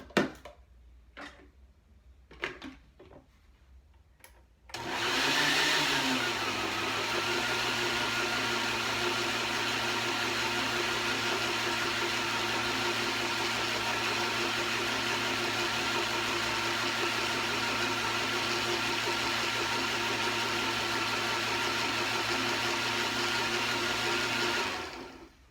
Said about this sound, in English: I'm going to blend it again